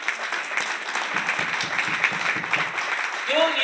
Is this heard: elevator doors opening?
no